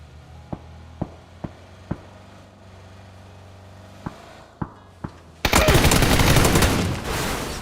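Gunfire in PUBG from a player shooting out of a car: a handful of sharp single shots spaced unevenly, then a loud dense burst of noise near the end.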